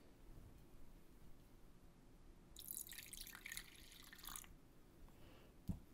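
Water pours in a brief splashing burst into a bubble-printing mixture of dish soap and green dye, set against a quiet background with a small tap near the end.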